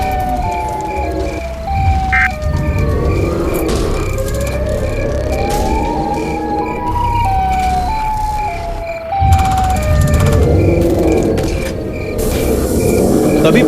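The cartoon Siren Head monster wails with loud, wavering siren tones that rise and fall repeatedly over a busy, noisy background of crashes and action sounds.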